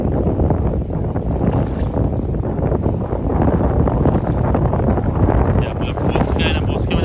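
Wind and light rain buffet a fishing boat at sea, making a loud, constant rushing roar with heavy microphone wind noise throughout.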